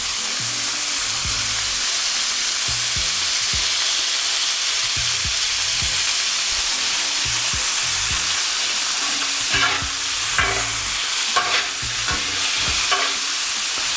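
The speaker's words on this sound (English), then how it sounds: "We're gonna cook our steak nice and slow." Steak cooking slowly in oil in a hot pan for a cheesesteak gives a steady, close sizzle throughout, with a few light scraping stirs near the end.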